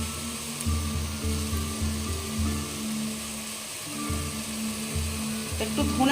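Onion and green chili paste, ground in a mixer, sizzles in a hot pan as it goes in. A steady frying hiss runs throughout, with a few clinks of a utensil.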